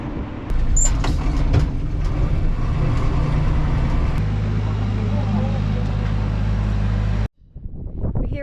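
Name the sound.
Unimog truck driving on an outback track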